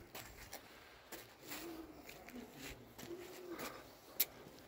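Pigeons flutter and coo outdoors around a loft while a keeper flies his flock, soft intermittent wingbeats and low cooing drifting in and out over quiet background.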